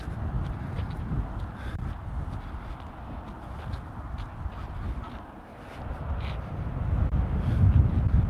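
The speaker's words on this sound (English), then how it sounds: "It is a little windy" Gusty wind buffets an outdoor microphone near geese, a low rumbling roar that swells and dips, with faint quacking and footsteps underneath.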